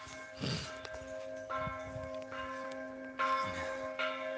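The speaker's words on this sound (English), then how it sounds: "Those bells." Faint church bells toll a few separate strokes, distant and spaced apart over a low background hum.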